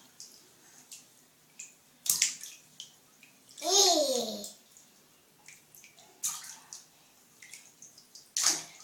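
A small child splashes water in a bathtub, with repeated bursts of sloshing and slapping at irregular intervals, one longer louder splash in the middle, close by, and brief childish vocal sounds in between.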